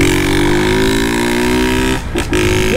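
A Honda CG Start 160 motorcycle fitted with a loud modified exhaust idles and revs steadily, its deep harmonic drone close and continuous for almost three seconds, dipping briefly before picking back up.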